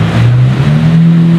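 A Lamborghini Murcielago LP 640 Roadster's engine hums at a low, steady pitch, then rises slightly in a short revving swell, close and fairly loud.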